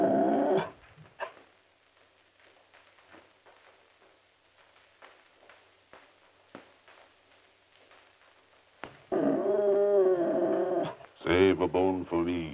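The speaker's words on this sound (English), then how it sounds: "There must be a dog under the table." A dog under a table in a 1931 film growls and grumbles in short faint bursts after a brief voice, followed by loud overlapping music and noisy crackle near the end.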